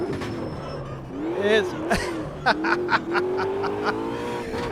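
A race car engine in the sim racing game Automobilista 2 revs and shifts, rising and falling whines with sharp gear-change blips, loud and close, with someone talking over it at times.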